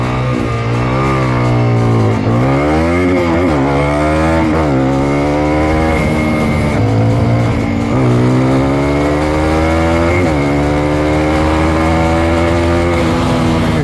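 A Suzuki DRZ460 big bore stroker with EFI and a Honda CRF300L big bore engine scream through the gears together, loud and close, with rising and falling rev sweeps at each shift throughout.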